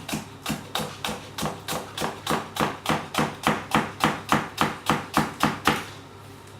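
Knife finely chopping the white end of a shallot on a board, about twenty quick, even, crisp strokes in a steady rhythm, close and clear, with no talking.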